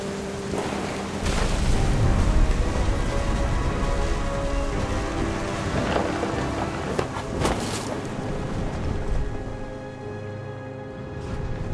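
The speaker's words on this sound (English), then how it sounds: "The thunder sounded much too close and full of angry power." Thunderstorm from the video game What Remains of Edith Finch: a loud, continuous rumble of rain and storm with deep rolling thunder swelling early on, then steadier downpour noise with scattered cracks, and no talking.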